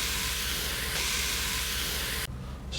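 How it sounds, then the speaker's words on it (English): Vegetable stock poured into a hot pan of roasted sweet potato, butternut squash and chili, giving a loud, steady sizzling hiss that fades slightly near the end. "And then we add vegetable stock."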